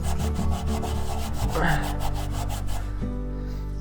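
A Scotch-Brite pad scrubs a thick coating off a car's underside in fast, rhythmic, rasping strokes, close and fairly loud, slowing and fading toward the end.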